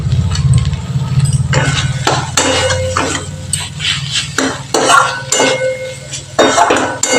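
A spoon stirs a mixed vegetable curry in a metal pan, making repeated close clinks and scrapes against the pan in an uneven rhythm, loud and with no talking.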